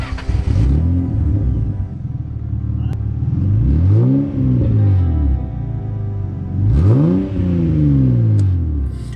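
Toyota Supra engine revving repeatedly, several rising and falling throttle blips with a deep rumbling idle between them, loud and close.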